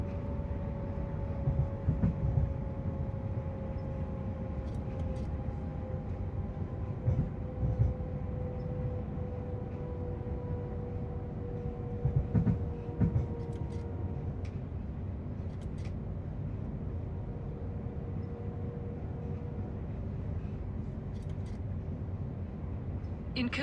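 An ÖBB 4746 electric train in Train Simulator slows while entering Hütteldorf station in Vienna, its continuous rumble joined by a falling motor whine and occasional clicks from the rails, steady and close throughout.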